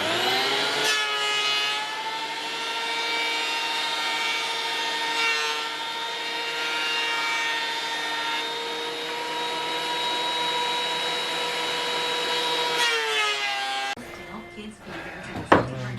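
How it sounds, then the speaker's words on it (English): A handheld power planer shaves a wooden board during interior cabinet work on a Bayliner 2455 boat, a steady loud motor whine with a rising pitch that runs for about thirteen seconds before cutting off, followed by brief clatter. "I just planed my board."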